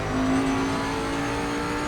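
Bentley GT3 race car engine in Assetto Corsa Competizione at Suzuka, a loud steady high-revving drone with a sustained tonal whine, heard alone for about two seconds.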